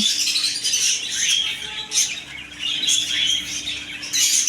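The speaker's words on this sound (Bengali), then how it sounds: "অসংখ্য রানিং পাখি" Many pet birds, including zebra finches and budgerigars, chirp and twitter together in a bird shop, a dense, constant chorus of close high tweets with occasional louder squawks.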